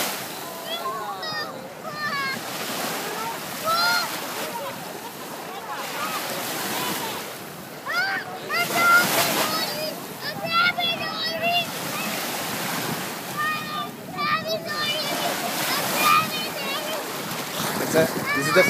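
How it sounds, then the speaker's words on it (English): Ocean waves wash and break along a beach where children swim, a continuous rushing surf with splashes and gusts of wind on the microphone, and voices of people talking and calling out over it. "This is the first time Luca and Rocco are in the ocean by themselves."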